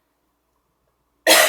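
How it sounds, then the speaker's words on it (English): A single sharp, close cough bursts out after a stretch of near silence, brief and loud. "I still have a cough"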